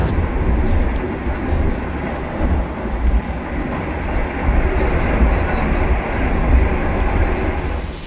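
Rumble and steady clatter of the Gaya Baru Malam Selatan passenger train running, heard from inside the carriage, a dense continuous roar with faint rhythmic wheel beats throughout.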